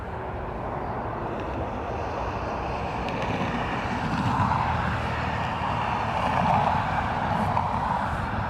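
A jet's thrust reversers roar at Dublin Airport, a broad, steady rumble that swells gradually from a distance, heard on its own without voices.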